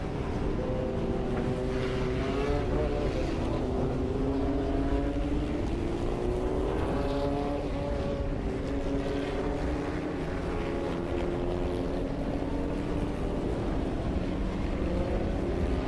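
A safety car at Zwartkops Raceway during a Formula Vee race drives into the pit lane, its engine a steady, droning hum that holds at a fairly even level throughout, with no talk over it.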